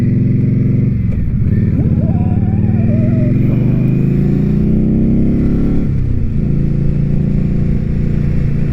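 Indian Scout Bobber motorcycle being ridden, a loud, continuous engine drone with rising revs and gear changes, heard close up from the rider's position with wind noise.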